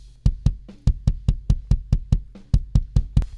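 A kick drum from the mix, soloed through the inside kick mic with no EQ, pounds out about fourteen boomy hits in a steady, busy pattern. The hits are close and alone, with a full low-mid body.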